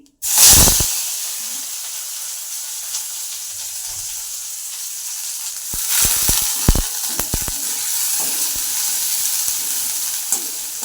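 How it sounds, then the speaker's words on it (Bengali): Onions sizzle and crackle steadily in hot oil, with a loud hiss at the start and occasional stirring clatters later; no one speaks. "পেঁয়াজ কুচিগুলো একটু দিব ভেজে নেব"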